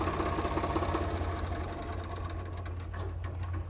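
A Massey Ferguson-style 855 tractor engine idles steadily up close, a continuous low mechanical chug with a rapid, even knock and no voices over it.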